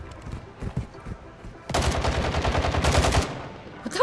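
In a video game, a weapon empties a full magazine in a loud, continuous burst of rapid automatic fire lasting about two seconds, preceded by scattered lighter noises and followed by near quiet.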